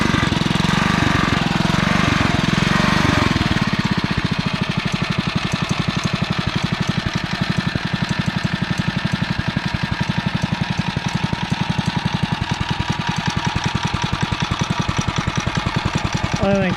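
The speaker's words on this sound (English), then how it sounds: "It'll run until it runs out of gas at dead idle." A REO trike engine runs at dead idle, a loud, steady, rapid chugging that stays even throughout after some heavier mechanical noise at the start, with people talking over it.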